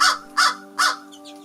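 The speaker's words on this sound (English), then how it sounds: "Here's what the American crow sounds like," An American crow gives three loud, harsh caws in a steady rhythm, close and clear, with a faint softer call trailing after the last one.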